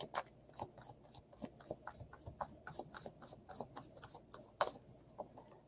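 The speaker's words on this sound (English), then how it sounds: "That was a good shuffle." Tarot cards are shuffled by hand during a live card reading, giving a rapid run of crisp, close riffling snaps and clicks in an uneven rhythm, heard alone without talk.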